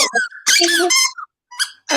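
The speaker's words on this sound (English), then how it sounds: "That's my dog playing with her toy." A dog plays with a squeaky toy indoors, giving several sharp, high squeaks in quick bursts with short gaps between them, loud and close.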